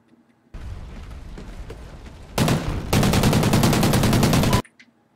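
Gunfire in Call of Duty: Ghosts Domination multiplayer on the Warhawk map: loud, sustained automatic fire in dense rapid bursts lasting several seconds, heard alone with no voices.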